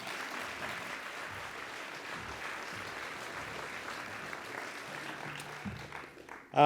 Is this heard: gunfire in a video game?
no